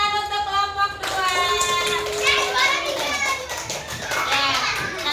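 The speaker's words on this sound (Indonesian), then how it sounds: "tepuk tangan untuk kelompok 2" Schoolchildren in an elementary classroom clap for a group of classmates, a dense patter of many hands mixed with children's voices and chatter throughout.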